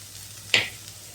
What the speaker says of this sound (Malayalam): നന്നായി മണം മാറുന്നത് വരെ വഴറ്റാം.